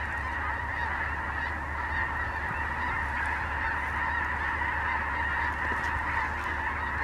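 A huge flock of snow geese over North Dakota, thousands of birds honking at once in a constant, dense chorus that never lets up.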